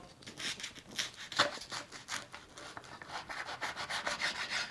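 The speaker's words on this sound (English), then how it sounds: "Now we're gonna go ahead and cut it down the middle." A knife cuts down the middle of a tall egg breakfast sandwich, giving a soft, close, scratchy rasping as the blade saws through the bread, quiet and continuous with no talk.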